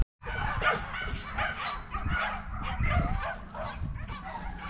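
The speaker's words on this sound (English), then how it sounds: "There's so many dogs." Several four-week-old rat terrier puppies at a breeder's yip, bark and whimper together in a close, busy chorus that keeps going without a break.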